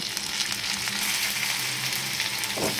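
Chopped onions and chopped tomato fry in a pan with a continuous, moderately loud hiss and sizzle. There are no pauses and no voices.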